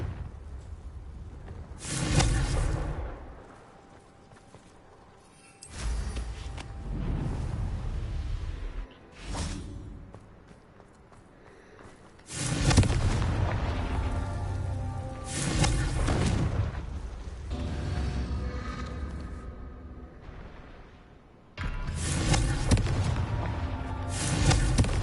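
The Confringo blasting spell in Hogwarts Legacy sounds as several loud, booming magical explosions with whooshing bursts and rumbling tails, separated by quieter gaps.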